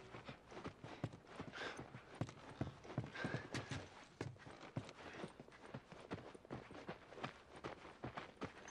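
Horse hooves clip-clop steadily on the ground in The Last of Us, a continuous uneven walking rhythm, fairly faint and moderately distant, with no talk over it.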